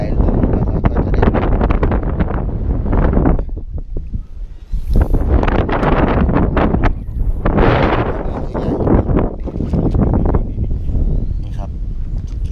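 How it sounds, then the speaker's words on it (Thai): Strong wind buffets the microphone on an exposed seashore at low tide, gusting in long roaring bursts with brief lulls between them. "ลมมันแรงครับถ้าลมไม่แรงจะหาง่ายมาก"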